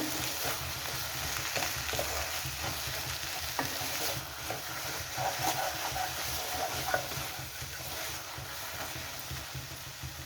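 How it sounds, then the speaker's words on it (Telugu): Coriander and gongura leaves cooking in an oiled pan, a continuous close sizzle and hiss with occasional stirring scrapes, steady throughout and without any speech. "బాగుంటుంది కొత్తిమీర, గోంగూర. ఈ రెండు బాగా మగ్గనిద్దాం."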